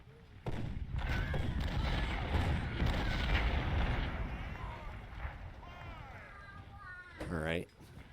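Battle sounds from Ultimate General: Civil War, a sustained roar of massed rifle volleys and artillery rumbling for several seconds, then a brief sharp burst near the end, loud and continuous.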